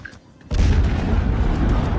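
A missile strike explosion at Bandar Abbas, a sudden loud boom after a quiet moment that leaves a dense, sustained rumble.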